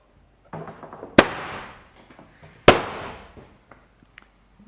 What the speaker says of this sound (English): That's the sound of a nice flat panel.